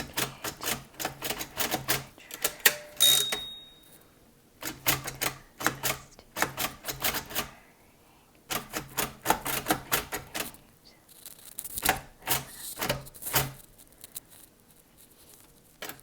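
A Braille writer machine embosses contracted Braille in quick bursts of sharp mechanical clacks. Each burst has rapid key strikes and is separated by short pauses, close and clear with no voices.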